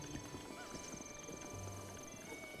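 Horse hooves clip-clopping in the video game Breath of the Wild, a soft, fairly faint run of quick hoofbeats heard at a distance beneath low background game sound.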